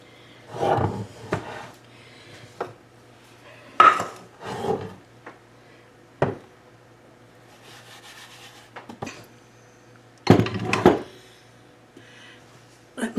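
Handling of a cast iron fry pan and a cutting board in a kitchen: scattered knocks, clunks and scrapes come in irregular bursts over a low steady hum, close by.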